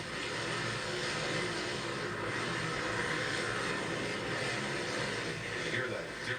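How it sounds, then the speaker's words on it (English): Big 4-stroke 450cc snow bike engines racing at a snocross event in Deadwood, South Dakota, a continuous distant drone that hums steadily under faint commentary. "you get these big 4-stroke 450cc motorcycles out here"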